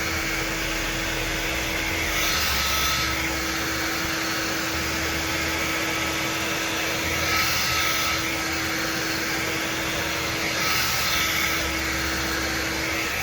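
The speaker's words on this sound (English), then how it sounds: "blowing my blow dryer down the strand to smooth the strand" Steady loud whooshing airflow with a constant motor hum, like a hair dryer running continuously; the pitch shifts slightly every few seconds as it moves.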